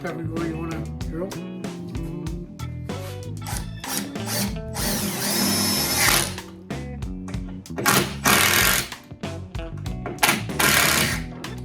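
A power drill whirs in repeated loud bursts during a DIY truck camper build, the motor revving up and stopping several times close by, with people talking between the runs.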